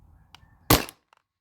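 A single sharp crack from a modified Valken M17 HPA paintball marker run off a 13 cubic inch tank, one loud close shot with a quick hissing tail, then quiet.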